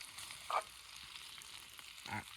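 Meat cooks over heat at an outdoor camp in Appalachia, giving off a faint, steady sizzle with a couple of brief, louder spits.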